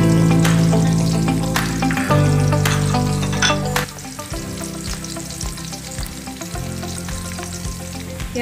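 Onions soften in a hot pan with green chillies for a goat kidney kebab. The frying is loud and crackling, with sharp clicks from stirring, and it settles to a slightly quieter sizzle halfway through.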